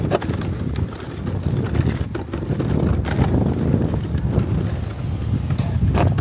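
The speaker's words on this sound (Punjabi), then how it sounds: "ਧੁੱਪ ਹੈਗੀ ਆ ਪਰ ਹਵਾ ਵੀ ਨਾਲ ਤਾਂ ਇੰਨੀ ਗਰਮੀ ਨਹੀਂ ਲੱਗਦੀ" Wind blowing outdoors in a park on a sunny day, buffeting the microphone with continuous low rumbling gusts that rise and fall throughout.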